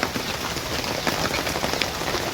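Heavy rain pounds a stall umbrella in a dense, steady patter of drops, close and loud throughout, with no voices.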